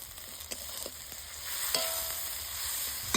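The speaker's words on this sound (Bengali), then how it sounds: "টমেটো কুচি দিদিমো নুন হলুদ গুঁড়া কাশ্মীরি লঙ্কার গুঁড়া এবার হালকা নাড়ি চাড়ি দিন" Chopped tomato with salt, turmeric and Kashmiri chilli powder stirred in a hot pan for egg curry, a steady sizzle and frying hiss with soft scrapes of the spatula, close and continuous.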